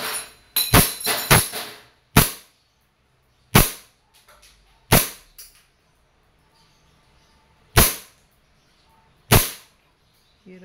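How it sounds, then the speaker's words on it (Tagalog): Shots from a WE M92 full metal silver Beretta airsoft pistol: a quick burst of sharp snapping cracks, then single pops spaced a second or more apart, close and loud, with brief faint sounds in between. "Testing tayo, sir, ng inyong WEM92 Full Metal Silver Beretta."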